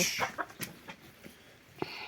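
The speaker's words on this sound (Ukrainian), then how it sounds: "Може, нажини ту курку, бо я не можу. Ну стоїть і вавкає і вавкає над душою." A chicken clucking close by, giving several short, uneven clucks spread over a couple of seconds in a quiet indoor or yard setting.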